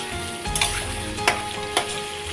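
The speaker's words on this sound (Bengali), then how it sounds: "এঁচোড়টাকেও হালকা করে ভাজবো, খুব বেশি ভাজবো না।" Young jackfruit fried lightly in a pan, a steady close sizzle broken by a few sharp scraping stirs of the spatula, with no voices over it.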